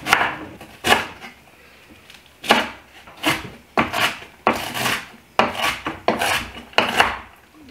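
A knife chops cabbage for coleslaw on a cutting board, about a dozen crisp, loud, close strokes in an uneven rhythm, each a short crunchy rasp with brief gaps between, and no voices.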